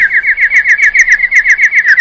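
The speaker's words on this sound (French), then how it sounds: "Un autre oiseau se présenta." A small bird chirps in a quick run of rhythmic, high tweets, close and clear, repeating evenly for about two seconds with nothing else heard.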